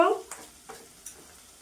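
Burger filling ingredients frying briefly in a pan, a faint sizzle marked by three quick spatula scrapes at regular intervals after a brief tonal sound at the start.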